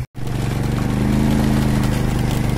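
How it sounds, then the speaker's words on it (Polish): A small motorbike ridden through the Vietnamese jungle putters close and loud with a steady, rhythmic engine drone after a brief cut at the start. "O kurde, jazda na tym motorku"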